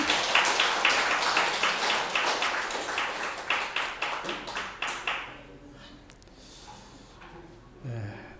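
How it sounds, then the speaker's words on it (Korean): A church congregation claps together in a steady rhythmic beat that gradually slows into separate claps and fades to quiet murmurs, with a brief voice at the end. "우리 하나님께 영광의 박수 올려드리겠습니다"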